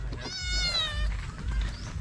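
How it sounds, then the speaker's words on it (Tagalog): A cat meows clearly and close by, one drawn-out, wavering meow with a high, bending tone, over a low background rumble. "Yung pusa."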